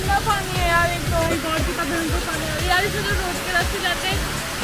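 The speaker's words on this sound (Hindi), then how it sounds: "इतना पानी भरा हुआ है कि पूरा सीढ़ियों में पानी बह रहा है और सब जगह पानी बह रहा है" Overflowing Ganges river water rushes down the flooded steps at Triveni Ghat in Rishikesh during rain, a loud continuous wash of flowing water close by.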